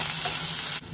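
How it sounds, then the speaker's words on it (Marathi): Chopped onion sizzles steadily in hot oil in a kadhai for a Malvani mud crab curry tempering, a loud, dense frying hiss that holds nearly the whole moment before dropping off abruptly near the end. "मी कांदा फोडणीला घालते।"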